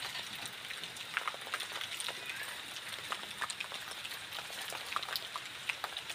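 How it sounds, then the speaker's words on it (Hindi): Evening rain falls in a village, a soft steady patter of drops with scattered sharper ticks on nearby surfaces, faint and continuous throughout. "यहाँ पे शाम के वक्त बारिश चालू हो गई है"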